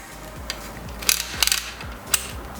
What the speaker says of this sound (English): let's put the feet out, unscrew, and then they spring out